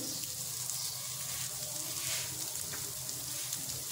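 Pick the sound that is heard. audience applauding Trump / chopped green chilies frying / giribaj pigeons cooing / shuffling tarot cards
chopped green chilies frying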